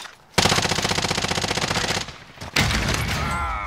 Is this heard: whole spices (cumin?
no